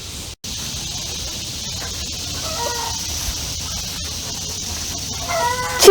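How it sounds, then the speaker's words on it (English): Chickens clucking on a colonial plantation farm in Pennsylvania, faint scattered clucks and calls rising near the end over steady outdoor hiss and background noise. "Chicken lay egg."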